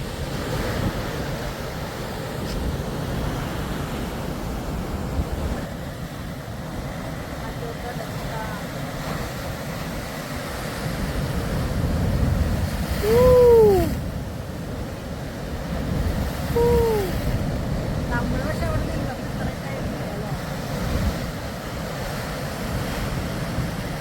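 Rough sea waves crash continuously onto Snehatheeram beach, a loud, rolling surf roar with surges and wind buffeting the microphone, and a faint distant tonal call drifting over the noise.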